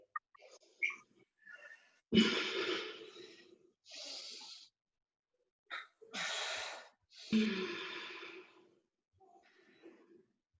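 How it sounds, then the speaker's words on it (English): Heavy breathing during an exercise workout, a series of forceful, close exhales and gasps in uneven bursts separated by short silences. "Just keep breathing."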